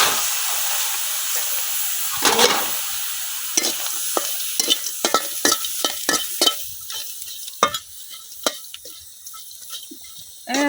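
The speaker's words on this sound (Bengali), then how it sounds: "আমি শুটকি গুলা ভালোভাবে বাজালিয়াম।" Dried fish (shutki) fries in a pan, with a steady sizzle and hiss at first, followed by repeated scraping and stirring clatters from a spatula, close up with no talk.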